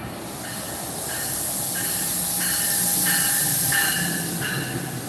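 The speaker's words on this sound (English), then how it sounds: "That's the train down the coastline to Long Branch with the connection to Bayhead." An Amtrak-corridor commuter train bound for Long Branch, with a multi-level car leading, rolls past with a steady broadband rush, hiss and faint repeated wheel squeals that swell and fade over a few seconds, with no talking.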